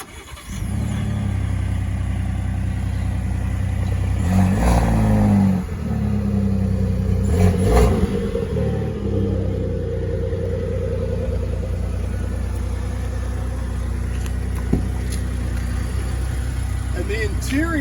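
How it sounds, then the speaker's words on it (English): A 2022 Ford F-150 Lariat 4x4 pickup starts from cold, revs briefly, then settles into a steady, loud idle that runs on for most of the clip. "Let's get you that cold start and we'll check it out."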